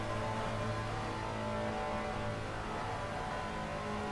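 A steady, droning V12 safety car engine in the racing game Assetto Corsa Competizione at Monza holds a constant strained note, loud and unbroken, revving hard as if stuck in first gear.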